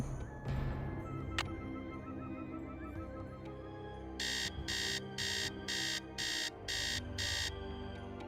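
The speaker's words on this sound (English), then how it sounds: "oh, the sound of the alarm clock. It's so good." In the Nancy Drew game Secret of the Scarlet Hand, an alarm clock rings as seven evenly spaced, bright electronic beeps, following an earlier horse whinny over faint background game ambience.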